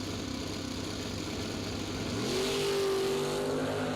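Drag racing cars launching side by side on a dial-in bracket race, a loud roaring engine rumble that swells into a rising rev as they pull away.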